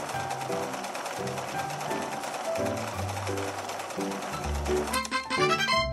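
A video game sewing machine stitches pieces of a garment together with a rapid mechanical whirring, set against bouncy game music with repeated chimes and a brief flourish near the end.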